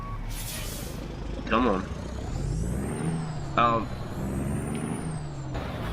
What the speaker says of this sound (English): That was full brakes and now I couldn't even stop.